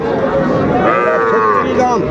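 A young bull calf moos loudly and close at a busy cattle market, Ambari haat in Dinajpur, with a long drawn-out low call over crowd chatter.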